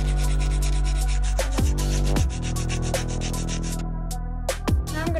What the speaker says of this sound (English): Take my fine grit sanding band and remove the shine from the nail tips